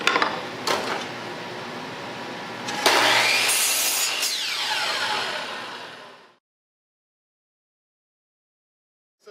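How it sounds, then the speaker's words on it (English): A 10-inch miter saw cuts a wooden board to length with a loud close whine and a bright rasp as the blade passes through. The motor then spins down over a couple of seconds into silence, with a small click at the very end. "That was the standard 10-inch miter saw, cuts up to a 5-inch crosscut."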